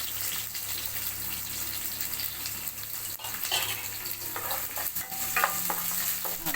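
A single onion frying in a pan with curry turmeric and chilli, giving a steady close sizzle with scraping stirs and clinks throughout, and no talk.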